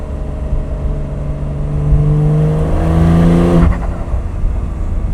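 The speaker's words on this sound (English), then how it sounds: "you can hear the turbos really well with the valves open." A 2026 Porsche 911 turbo engine runs with its exhaust valves open, its pitch rising smoothly under acceleration before easing off with a faint turbo whir, close and loud with no talking.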